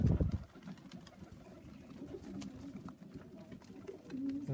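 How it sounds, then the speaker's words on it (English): Pigeons coo softly and repeatedly at close range, low murmuring calls over a brief rustle at the start and faint background noise. "All these pigeons"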